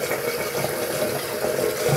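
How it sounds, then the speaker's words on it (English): Water running from a tap onto a shaving brush, a steady hissing, splashing flow that stays loud and continuous throughout, close to the microphone, with no talking. "I'm actually gonna add a touch more water to this brush."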